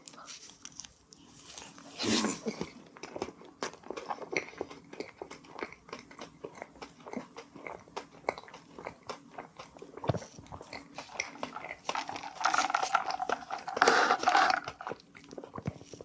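Close crunching and chewing of an edible money-bundle snack shaped like 50,000-won bills, with bites and steady mastication noises throughout, quiet between chews.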